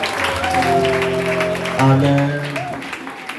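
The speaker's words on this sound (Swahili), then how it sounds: "Pigia Yesu makofi mazuri." A church congregation clapping in praise, the applause mixed with sustained sung or shouted voices and a held musical tone, loud and close, with a brief spoken word near the end.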